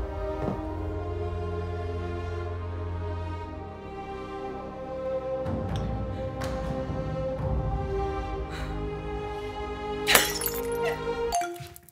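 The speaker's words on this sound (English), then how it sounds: "Smashing the play button now. To pieces." A shattering smash sound effect breaking into many pieces, with ringing, clinking fragments scattered across the passage and a sharp loud burst of breaking near the end, heard alone without speech.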